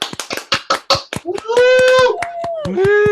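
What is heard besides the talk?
audience applause for an improv team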